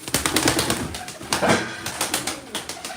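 Young pigeons in a loft coo softly and repeatedly at close range, mixed with sharp clicks and brief rustles of feathers and movement.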